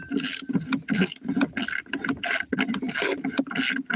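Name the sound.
wrench removing a bolt from a spindle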